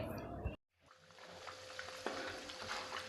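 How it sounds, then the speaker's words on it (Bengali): Salt-rubbed chicken pieces fry in oil already flavoured with fried onions, giving a soft, steady sizzle with faint pops and an occasional clink after a brief break at the start. "এবারে বেরেস্তা তৈরি করা তেলে আমি লবণ মাখানো চিকেনের পিসগুলোকে হালকাভাবে ভেজে নিব"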